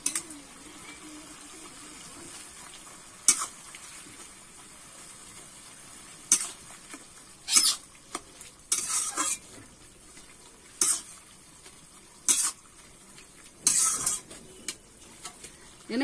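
Boiled telakucho greens and potatoes being stirred and mashed in a pan, with intermittent scraping and clinking of a utensil against the metal over a soft low background, in irregular bursts.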